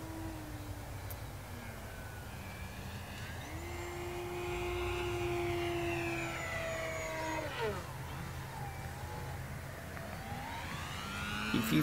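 An E-Flite Decathlon RJG 1.2 m RC model airplane on a 3-cell battery flies overhead, its electric motor whining in smooth rising and falling sweeps, moderately distant and faint.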